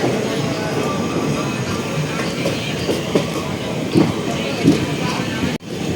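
A Tirupati–Katpadi MEMU train runs on the rails with a continuous loud rumble and faint wheel clatter, heard from inside the carriage, ending in a sudden brief drop.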